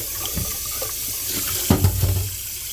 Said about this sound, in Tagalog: Pero luglugan na natin ang tubig.